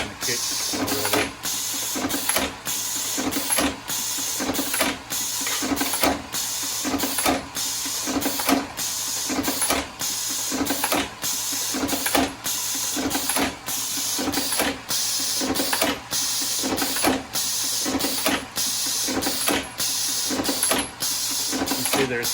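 Lee APP reloading press powered by a pneumatic cylinder, running fast: a loud, rapid, steady mechanical clatter of regular strokes with hissing air, continuous throughout.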